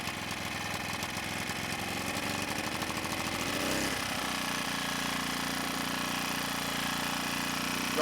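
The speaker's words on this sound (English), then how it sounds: "Sorry about the generator noise." A portable generator runs outdoors with a steady, mid-pitched engine drone and a faint knocking rhythm. It shifts slightly partway through and then settles into a constant hum, with no voices.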